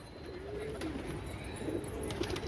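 Pigeons coo softly in low, rolling calls, repeated a few times against a steady outdoor background.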